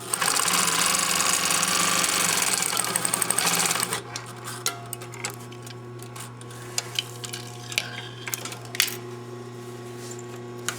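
A sewing machine runs a fast, loud, steady stitching whir along a gusset seam for about four seconds, then stops into a low hum with scattered clicks and handling taps.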